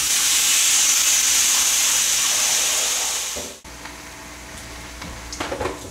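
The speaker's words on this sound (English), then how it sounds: "I'll get the first batch going on the grill" Beef satay skewers sizzle on a hot grill with a loud, steady, close hiss that cuts off sharply after a few seconds, followed by quieter background noise and a few faint clatters.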